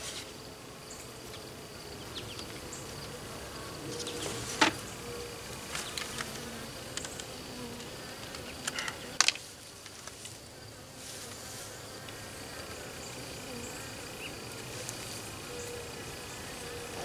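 Honey bees in an indoor observation hive hum in a soft, steady, close drone throughout, with a few faint clicks and knocks.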